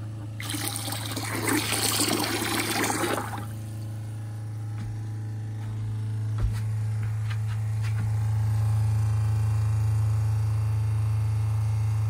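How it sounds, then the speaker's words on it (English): A small water supply pump in a RAM ProMaster van build runs quietly, giving a steady low hum while water trickles and splashes through the fittings early on, then settles into a continuous drone with a few faint clicks. "And it looks to be moving some water."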